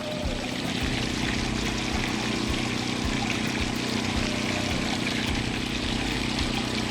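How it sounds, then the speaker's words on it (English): Steady rushing of pumped well water pouring into a 5-gallon bucket, a continuous close splashing flow with a low rumbling undertone throughout. "I'm still pumping a 5-gallon bucket, overflow in a 5-gallon bucket in 23 seconds."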